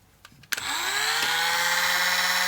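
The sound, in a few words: drilling a 1mm hole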